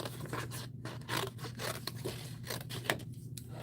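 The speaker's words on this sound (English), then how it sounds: "the really nice thing about the little scissors like this, I'm just going to cut this out" Small craft scissors cut out a shape from paper in a series of short, crisp snips and scratchy slices, close and fairly quiet, with no talking.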